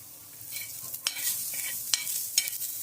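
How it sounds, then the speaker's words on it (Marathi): Steady sizzle of onion frying on a tava until reddish-brown, with a few sharp scraping clicks as it is stirred; close and moderately loud, no voices. "कांदा आपला आहे ना चांगला परतून झालेला आहे"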